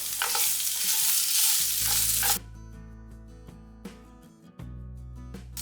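Cut potatoes with salt are stirred and fried in a pan, a loud broadband sizzle for the first two seconds, then quieter scraping and clinking of the spoon against the pan, with a brief burst of frying returning near the end.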